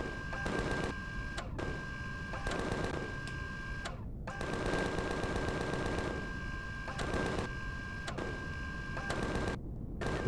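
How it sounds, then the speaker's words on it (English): Ion cannons fire in rapid repeating bursts during a space battle in Empyrion Galactic Survival, a rattling, machine-gun-like barrage with brief pauses between volleys, loud and steady with no talk over it. "These ion cannons are slightly slow shooting, well they were."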